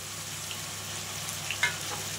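Tomatoes sizzle in a frying pan as they are stirred into a sambar base, a steady close hiss with a brief sharper clatter near the end and no voices.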